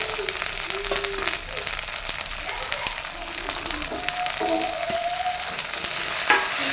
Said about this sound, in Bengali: এখন দিয়ে দিলাম রসুন, আদা আর কাঁচা লঙ্কা পেস্ট।